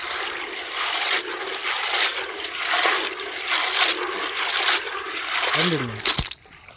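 Water is poured into a cooking pot for boiling shell macaroni, giving a loud, rushing splash in uneven surges that stops abruptly near the end.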